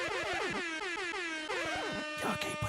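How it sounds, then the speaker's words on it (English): Air horn sound effect blaring continuously at high volume, a loud sustained brassy blast with wavering pitch sweeps, played during a Detroit Lions postgame show after a game against the Philadelphia Eagles. "let's do the air horn."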